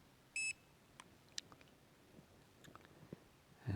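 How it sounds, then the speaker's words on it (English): A Hubsan Zino Mini SE drone gives a short electronic return-to-home beep near the start, followed by faint scattered clicks and taps in a quiet room, ending with a louder thump. "Now to get rid of that beeping, you just hold the function button down"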